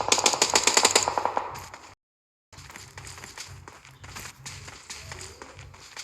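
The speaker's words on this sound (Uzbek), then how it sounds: "Hatto otishma bo'lyapti." Rapid gunfire rattles in a video game shootout: a loud burst of quick repeated shots, a brief silence, then a quieter, ongoing stream of shots.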